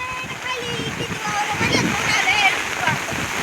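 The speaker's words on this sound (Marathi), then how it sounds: "ती रामदास कुठं चाललं एवढं पाण्यात?" Water splashing and sloshing as someone wades through deep floodwater on a road after heavy, damaging rain, a steady broadband wash with people talking over it.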